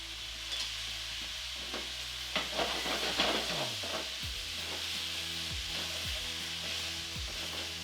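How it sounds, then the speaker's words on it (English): A pan of meat and potatoes with bacon sizzles and crackles steadily while being deglazed with about a tablespoon of balsamic vinegar. The frying hiss is close and continuous, with scraping and stirring knocks and a low hum underneath, and no one speaks. "I'm going to deglaze the pan with about a tablespoon or so of balsamic vinegar"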